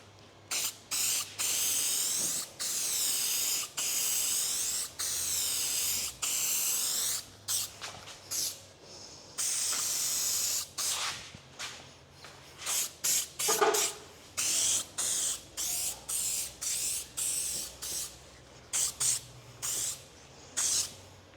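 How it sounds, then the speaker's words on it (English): Rust sealant sprayed from a can onto a surface rust repair, repeated close hissing bursts of varying length, some long and steady, others short quick squirts, with no talk. "I'll just give it a quick squirt of this and that'll seal it off for now."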